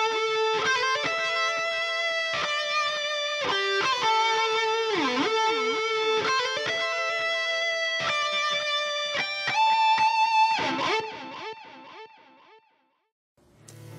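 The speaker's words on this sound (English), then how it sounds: "And now with everything, all the amp emulation, additional EQing, going through the delay," A distorted lead electric guitar plays through amp emulation, EQ, delay and reverb. Sustained bent notes and vibrato form a melodic phrase that rings out alone and fades into a reverb tail before a brief final pick.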